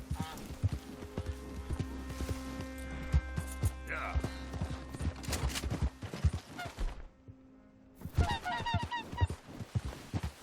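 Turkeys in the Red Dead Redemption 2 game gobbling and honking in repeated bursts, mixed with hoof clip-clop and game sounds, with a short quiet gap before the calls return.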